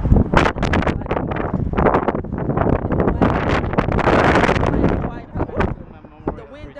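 Strong wind blows across the Hoover Dam bridge, a loud, gusty roar buffeting the microphone almost without pause before easing near the end, while people talk through it.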